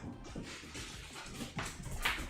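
A puppy whimpers and whines in soft, uneven bursts over a steady bed of background noise, fairly faint and close, with no voices.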